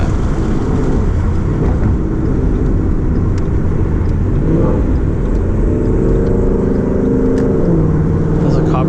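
A supercharged Ford Mustang GT engine holds high revs inside the car. The roar is loud and continuous and sits steady near the top of its range, with a voice speaking over the engine.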